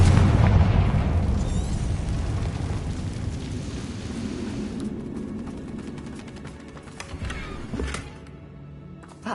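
A fiery Confringo spell explodes in Hogwarts Legacy, a loud booming blast that rolls into a long fading rumble with crackling debris before a final sharp pop.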